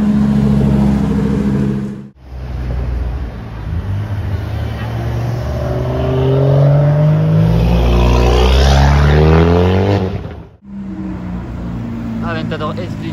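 Lamborghini Huracan Performante Spider engine revving close by, a loud rising roar that swells and falls back, with people talking over it.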